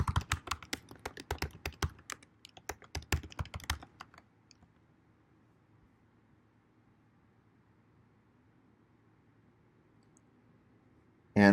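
Typing GitHub login credentials on a computer keyboard: a quick run of crisp, close key clicks for about four seconds, then near silence with faint background hiss.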